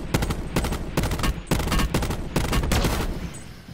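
Bursts of rapid automatic gunfire from a battle royale video game, several loud volleys in quick succession with short gaps between them, no talking.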